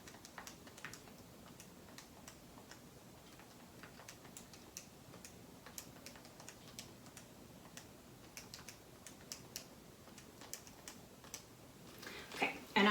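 Calculator keys are tapped in a run of light, sharp clicks at an uneven pace, faint against a quiet room, with a louder clatter near the end.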